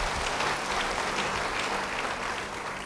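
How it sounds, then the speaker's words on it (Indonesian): A church congregation applauds together, a dense, steady clatter of many hands that stays even for the whole stretch and eases off slightly at the end. "Yang setuju beri tepuk tangan bagi dia."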